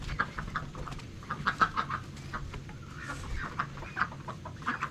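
Backyard chickens clucking as they are given huge beetles, a faint scattered flock with irregular clucks and short calls rising and falling throughout.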